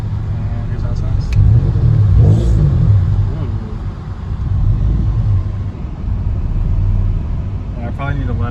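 A Mitsubishi 3000GT engine with a newly installed S90 throttle body runs loudly nearby, a steady rumbling idle with a couple of throttle blips raising the revs, and a person speaks over it.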